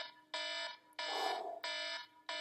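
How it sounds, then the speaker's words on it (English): An electronic alarm beeps in three long, steady tones with short gaps between them and begins a fourth, loud and close, with no other sound. "Alarm."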